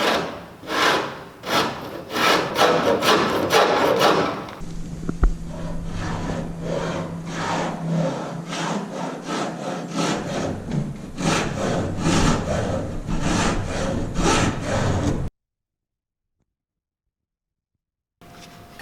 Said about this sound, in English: Using our wood rasp, we're going to follow the contour of the transom to make our guide cut